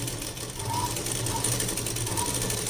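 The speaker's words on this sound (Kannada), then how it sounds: "ಮೇಲಿಂದ ಕೂಡ ಒಂದು ಸ್ಟಿಚ್ಚನ್ನು ಹಾಕ್ತೀನಿ" A sewing machine stitches a net blouse with a continuous mechanical whir and a low, even hum, running steadily and fairly close.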